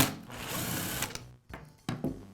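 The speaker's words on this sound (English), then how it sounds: "I'll begin by removing the screw that holds the guide bearings to the bandsaw." A power driver whirs close up as it backs the screw out of the guide bearing on a DeWALT band saw, a continuous motor drone followed by short clicks and a brief final burst.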